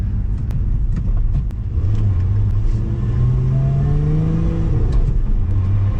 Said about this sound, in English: Supercharged whine is just amazing as well.